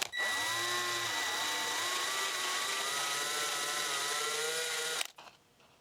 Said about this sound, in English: It's best to leave the cap on when you drill it.